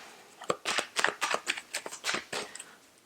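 Tarot cards being shuffled in a quick series of crisp riffling bursts, close and fairly loud, with no talking.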